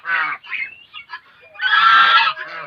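A pair of young geese, about a month old, give a few short honks up close, then one drawn-out, loud, rasping call.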